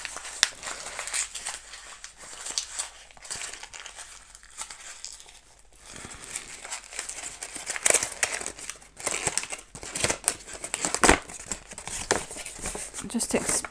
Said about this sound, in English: Plain piece of paper. I think I'm going to screw this up as well.